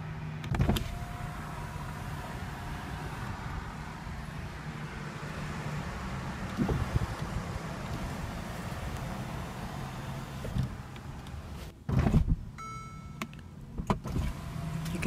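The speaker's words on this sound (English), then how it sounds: "You can transform your SL from closed cooped to open Roadster in about 16 seconds" The retractable hardtop of a Mercedes-Benz SL550 roadster opens with a steady electric motor whir, punctuated by a few clunks and latch clicks from the mechanism, heard up close.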